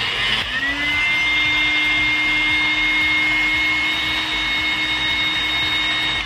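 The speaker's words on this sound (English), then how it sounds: "Grab your heat gun and shrink the tube." A heat gun blowing hot air to shrink heat-shrink tubing on wiring for a 2016-2019 Tacoma camera install, a loud steady whirring roar with a high whine, running alone and unchanged throughout.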